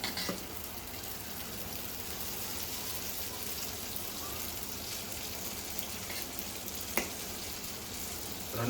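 Dibba rotti batter fries in oil in a pan, a steady, even sizzle and crackle that holds for the whole stretch, with a few faint clicks and knocks from utensils and no talk.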